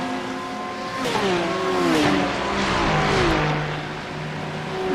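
GT3 race cars, a BMW and a Porsche, in a racing video game, their engines whining and sweeping up and down through the gears as they pass close and loud.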